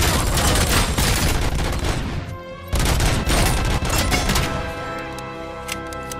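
Dense, loud gunfire in the first-person shooter RoboCop: Rogue City, with sustained bursts of rapid shots and crashing impacts, a brief dip mid-way, then continued shooting tapering into lighter shots.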